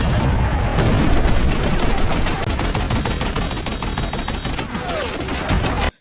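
Dense, loud gunfire rattling continuously with heavy booms of cannon fire mixed in, like a chaotic battle barrage in a film, cutting off abruptly at the end.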